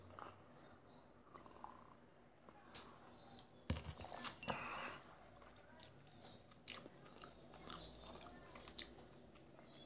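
Close, quiet chewing and biting of crunchy fried toast with maple syrup and milk, soft crunches and mouth sounds through a hushed background, with a few sharper bites standing out.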